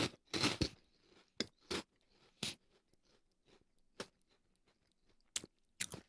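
Crunchy chips chewed close up, a string of sharp, irregular crunching bites with short quiet gaps between them and no talking.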